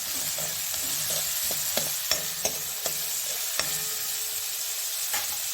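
Onions frying in a pan before wild monsoon mushrooms go in, a steady sizzle broken by repeated sharp taps and scrapes of a spatula stirring.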